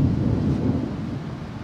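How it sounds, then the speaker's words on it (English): Thunder from a summer storm rumbles low and continuous, a deep, steady roll heard from inside a narrowboat with no voices over it. "It looks like we're going to get a one-off thunderstorm."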